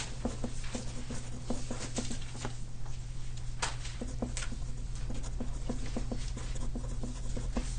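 Pen or marker writing on a board or paper in a classroom, with quick scratchy strokes and taps in irregular bursts over a steady low hum.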